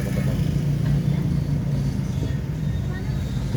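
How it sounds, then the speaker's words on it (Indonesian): Slow Lebaran holiday traffic jam of cars and motorcycles, a steady low rumble of idling and crawling engines close by, continuous throughout, with voices talking over it. "Ini macet nih, teman-teman."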